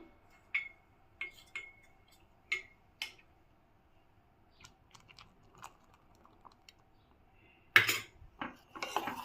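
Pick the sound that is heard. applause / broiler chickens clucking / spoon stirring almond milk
spoon stirring almond milk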